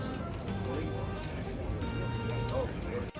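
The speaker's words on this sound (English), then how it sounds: "A tourist feeds an apple to the King's Guard's horse" The King's Guard horse's hooves clip-clop in a steady irregular patter on pavement, close and continuous amid crowd noise and talking.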